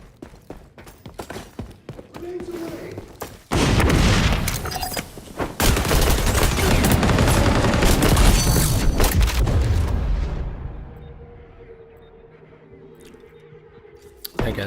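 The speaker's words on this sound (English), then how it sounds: "Guess this is where the frag grenade comes in handy." A frag grenade blast and gunfire in a multiplayer shooter game: scattered sharp shots, then a loud booming detonation with sustained crackling fire and rumble for several seconds, tapering off into quieter background with faint voice chat.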